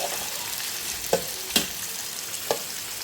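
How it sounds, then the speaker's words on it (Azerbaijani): Potatoes frying in a pan, a steady close sizzle with three sharp scraping stirs, no talk. "Kartofla soyuq qızardıram"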